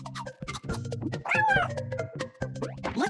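Cartoon cat meows repeatedly in a Lingokids children's pet-care video game, several bright, close meows and a drawn-out yowl over a light musical backing.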